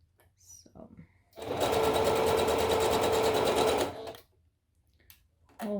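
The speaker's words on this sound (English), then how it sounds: "Always do a back stitch at the beginning of your sewing so that it will not come apart" A sewing machine stitches fabric for a homemade face mask, a loud close steady mechanical whir lasting about two and a half seconds, with soft talk and handling sounds before and after.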